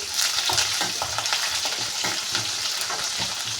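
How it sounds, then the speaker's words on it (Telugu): Small green chillies and curry leaves frying in hot oil for a tamarind-leaf dal, a close, crackling sizzle with stirring scrapes and soft pops running steadily throughout, no one talking. "కొత్తిమిరకాయలు చిన్నవి కరేపాకు ఇవన్నీ వేసుకొని ఒకసారి కలుపుకున్నాం"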